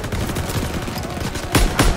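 Battle gunfire in Call of Duty WWII, a steady rattle of automatic fire that runs throughout, then two loud, close shots land near the end.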